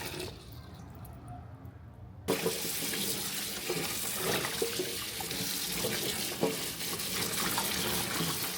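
Beans are rinsed under a running kitchen tap, a steady, close hiss of water with light splashes and rattles as they are stirred by hand, starting after a quieter opening.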